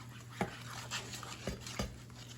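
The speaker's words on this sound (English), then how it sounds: "So I'm going to mix all of that in like that." A spoon mixing dried onion into a ham and Swiss sandwich filling in a bowl, giving a few soft scraping strokes and light taps against the bowl over a steady low hum.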